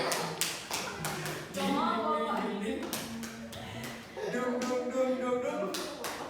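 A classroom group claps a rhythmic spirit chant, sharp clustered hand claps in a repeating beat while a teacher and students chant and speak over them.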